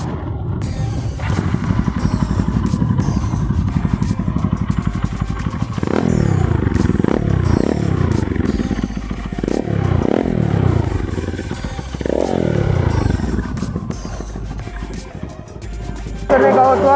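Bajaj Pulsar NS200 motorcycle fitted with an Akrapovic exhaust and dB killer, a loud idling rumble followed by a string of sharp throttle blips and revs that rise and fall, all close up.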